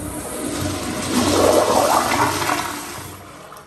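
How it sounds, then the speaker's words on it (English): A toilet flushes in the gender-neutral restroom of Ludden Library at LCCC in Cheyenne, Wyoming: one close, rushing flush that swells mid-clip and drains away, with no voices. "this is gonna be an interesting flush."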